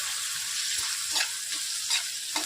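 Turmeric being stirred into softened onions in a pan for an eggplant curry, a steady close sizzle with a few periodic scraping strokes of the spoon, no voices.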